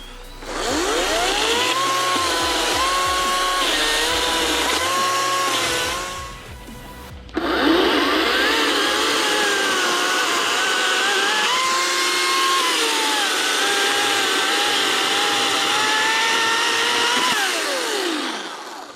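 A Ryobi 40V brushless battery chainsaw, left overnight in the cold, whines at high revs, rising and falling as it cuts, stops briefly, then starts up again and keeps buzzing loudly.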